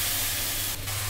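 Tomatoes frying with spices, including Kashmiri red chili powder, in a pan give off a steady, close sizzle and hiss with a brief surge of spray near the end.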